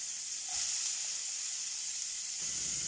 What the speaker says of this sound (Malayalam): ഇനി നമ്മൾ അരിഞ്ഞു വെച്ചിരിക്കുന്ന സവാള, ഇഞ്ചി, വെളുത്തുള്ളി എന്നിവ പാനിലേക്ക് ഇട്ട് കൊടുക്കാം